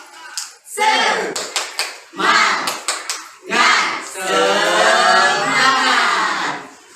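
A group of students performs a rhythmic "tepuk semangat" clap at a school cheer, the claps falling in quick sets among loud chanted voices and ending in a long sustained group shout.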